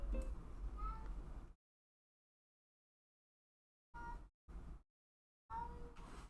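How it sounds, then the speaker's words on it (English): A cat meows several times in short bursts, loud and close, with silent gaps between the calls and no talking over them. "Who's meowing?"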